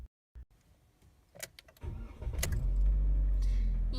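A push-button-start car's engine cranks and catches after a few clicks and quiet handling noises, then settles into a loud, steady idle close by.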